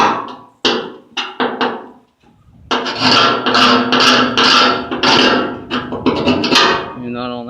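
A screwdriver scrapes and rasps at JB Weld on a pitted side gas tank from a 1978 Ford F150, in short bursts at first and then a longer run of strong rhythmic scraping.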